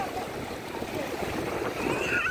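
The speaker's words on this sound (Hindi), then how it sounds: "डांसिंग कर रहा है पानी, छपाक छपाक" Water splashing at a film city attraction, a continuous rushing, churning wash heard up close with a faint tonal whistle near the end, no voices.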